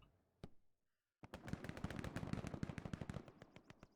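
Gunfire in the video game Squad: a single isolated shot, then a rapid sustained burst of automatic fire, loud and close, firing in a fast rhythmic stream.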